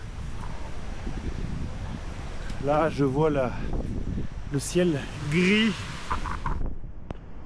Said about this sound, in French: On sent qu'il y a un vent à décorner les bœufs.